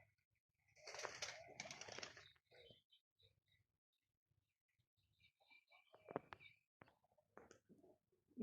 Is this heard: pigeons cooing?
yes